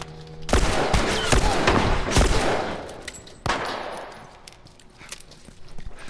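Assault rifle gunfire in The Last of Us video game, several sharp bursts and rapid strings of shots over about six seconds, fairly loud, alone without talk.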